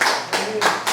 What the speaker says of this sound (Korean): 오늘 노래하시는 목사님 박수 한번 해줘요.